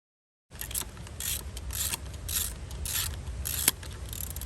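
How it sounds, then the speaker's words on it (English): A ratchet loosens the bolts on the backing plates of a 1973 VW Beetle front beam. After a moment of silence it gives close, rhythmic rasping clicks in repeated strokes, with one sharp knock near the end. "I'm gonna go ahead and pull these 3 bolts and pull these backing plates off."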